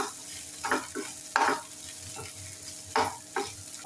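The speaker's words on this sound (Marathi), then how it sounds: "चिरलेली हिरवी मिरची घालूया. थोडीशी कोथिंबीर परतून घेऊया." Green chillies and coriander are sautéed in a pan: soft scraping stirs come in short irregular strokes over a faint, quiet sizzle. No voices are heard.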